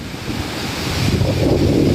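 Sea waves wash in at Aare Ware beach, with a broad, loud roar of surf mixed with wind buffeting the microphone, swelling louder toward the end of the short stretch.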